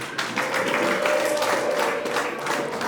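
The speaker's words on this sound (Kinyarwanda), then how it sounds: "tubashimire mu mashyi n'impundu" Guests at a Rwandan wedding applaud for the parents, a dense, steady wash of clapping from a crowd that fills the whole moment, close and loud, with scattered voices and possible ululation mixed in.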